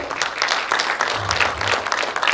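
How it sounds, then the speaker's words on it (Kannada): An audience gives loud applause at a stage event for a film's team, a dense burst of many hands clapping together, close and sustained for a couple of seconds. "ಜೋರಾದ ಚಪ್ಪಾಳೆ"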